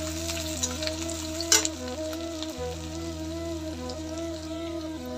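Onions with two bay leaves and cardamom frying in oil in a home kitchen, a steady close sizzle under a constant low hum, with one brief louder crackle midway.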